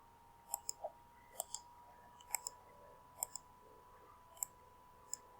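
Computer mouse clicks while working in QuickBooks accounting software: about a dozen crisp, close clicks, sometimes in quick pairs like double-clicks, spaced irregularly over a faint steady hum with no talking.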